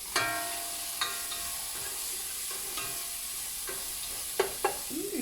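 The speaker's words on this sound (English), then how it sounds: "you're gonna cook the onions so they get brown. Look at that. Nice and sizzling." Onions sizzle in hot oil in a pot, a steady close frying hiss broken by a few knocks and scrapes of a spoon stirring, with no talking.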